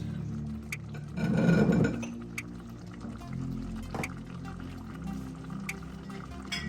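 Soy sauce is poured into a chicken and vegetable vermicelli stir fry in a short, soft liquid pour lasting about a second, followed by quiet clinks and kitchen noise.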